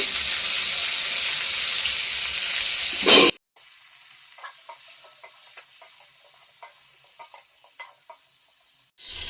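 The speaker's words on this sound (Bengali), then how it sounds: "এই তেলে ভেজে নিচ্ছি" Young jackfruit pieces fry in hot oil, a steady close sizzle that cuts off abruptly, then continues more faintly with scattered crackles and pops until another brief burst at the end.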